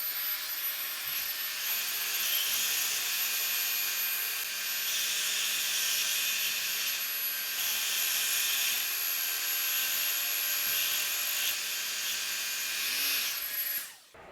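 A Sainsmart disc and belt sander runs steadily with a shop vacuum attached to its dust port, a loud continuous motor whine and airy rush holding level before cutting off abruptly at the end.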